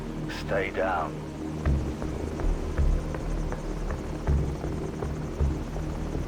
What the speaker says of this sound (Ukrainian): Що, гелікоптери?